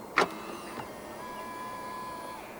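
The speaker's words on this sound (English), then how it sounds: "To lock the car, press the button on any of the front door handles." A 2025 BYD Seal AWD Performance locks from the front door handle button: one short sharp mechanical clunk, then a softer click, followed by a faint steady electronic whine or tone, all fairly close with no talking.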